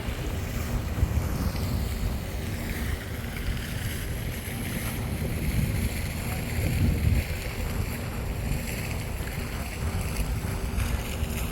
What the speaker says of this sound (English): I like this water fountain here.